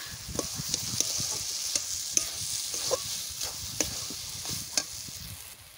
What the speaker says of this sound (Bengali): আমি এটা একটু ভালো করে ভাজে নিই, একটু লাল লাল করে ভেজে নিতে হবে